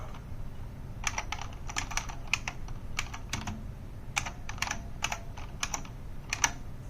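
Someone types on a new Model M keyboard connected to a computer. The clicky keystrokes come in irregular bursts, close and moderately loud, over a low background hum, with no speech.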